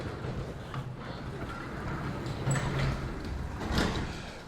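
A garage door being pushed open by hand after the emergency release cord is pulled, giving a steady rumbling slide with a few faint rattles and clanks, heard alone without talk.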